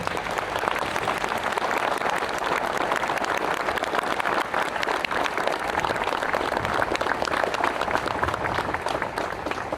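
Sustained, dense applause from a large audience at a speech by Archbishop Sławoj Leszek Głódź, steady and loud for the whole stretch with no pauses, the clapping forming a continuous roar.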